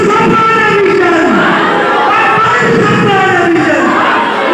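A large crowd at a religious gathering loudly chants a response to a slogan, a dense roar of many voices blending into a sustained, rhythmic call that fills the space.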